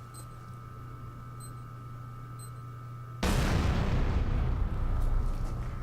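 A dynamite explosion in the video game INFRA bursts in suddenly after a quiet hum-filled ambience, then stays as a loud, sustained rumbling blast with debris roar for the rest of the moment.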